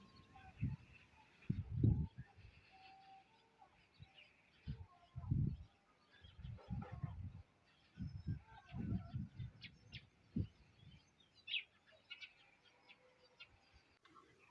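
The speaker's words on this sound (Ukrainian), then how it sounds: "Судячи по звуку, в дуплі горобці гороб'ят вивели." Faint, high chirping of sparrow chicks in a tree hollow comes in scattered bursts, mixed with soft low thumps and rustling close by.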